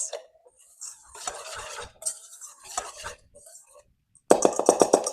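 Salt and ingredients are mixed in a bowl, giving short scraping and clinking strokes in several bursts and ending with a louder, rhythmic run of stirring taps. A quiet pause separates the bursts.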